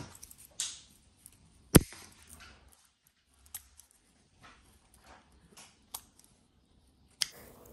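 Woody orchid stems and flower spikes being snipped with scissors, a handful of sharp, isolated clicks and cuts spaced apart in an otherwise quiet setting.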